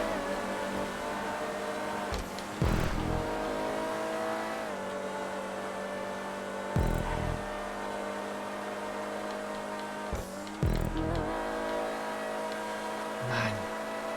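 Race car engine from GTA 5 under steady high revs, with a droning tone broken by several abrupt gear shifts and short dips in pitch, loud and continuous and with no voices.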